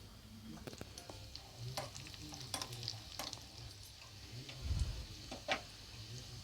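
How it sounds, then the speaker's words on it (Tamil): Cashews and raisins roast in melted ghee with a soft, continuous sizzle while a spoon stirs them, giving repeated light taps and scrapes against the pan at an uneven rhythm, fairly quiet and without speech. "முந்திரியும் திராட்சையும் வறுபட்டுடுச்சு"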